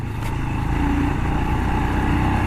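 A Royal Enfield Scram 411 motorcycle ridden on a hillside road at a mountain viewpoint in Laplae, Uttaradit, its engine giving a steady, loud, close droning hum with a slight rise in revs early on.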